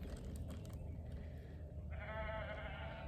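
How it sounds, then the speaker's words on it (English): A sheep bleats faintly in the distance, a wavering cry in the second half over a low background rumble. "Do you hear the sheep?"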